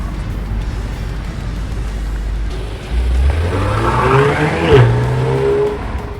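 An Acura TLX Type S engine hums steadily, then revs higher and climbs in pitch as the car accelerates, with road and wind noise underneath.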